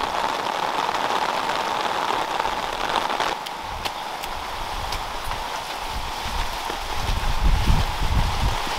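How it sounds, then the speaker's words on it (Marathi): Heavy rain on open farmland, a steady dense hiss throughout with scattered sharp drop taps and a low rumbling swell near the end. "अरे आम्ही बी तिकडे रानातच गेलतो, लय भयंकर पाऊस"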